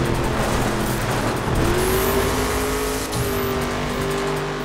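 Car engine in The Crew racing game revs and drones steadily, rising in pitch as it accelerates, with brief tire squeals, loud and continuous with no talking.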